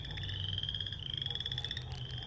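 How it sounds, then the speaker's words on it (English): A chorus of frogs croaks and trills continuously outdoors, a quiet but dense pulsing chatter with no voices around. "Listen to the frogs."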